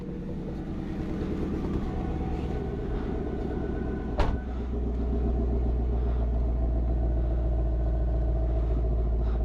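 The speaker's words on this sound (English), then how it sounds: "we'll listen for the idle outside the car" An affordable sports car idling, heard from outside the car, a low steady rumbling drone with a brief click partway through, no talking.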